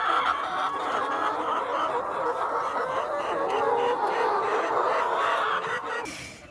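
Chickens cluck and chatter continuously in a poultry house on a farm raising about 3500 birds, a dense overlapping flock sound at moderate level that fades out near the end.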